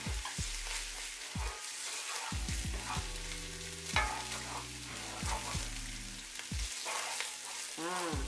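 Ginger paste frying for a chicken curry, a bright continuous sizzle with repeated stirring scrapes of a utensil against the pan, loud and close, with faint low tones underneath.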